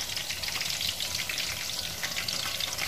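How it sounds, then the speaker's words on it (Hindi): Eggplant pieces frying in hot ghee, a steady dense sizzle and crackle that holds at an even level throughout, close and alone with no talking. "अभी इसमें हम बैंगन फ्राई करते हैं, थोड़े थोड़े डाल के इसको फ्राई कर लेंगे।"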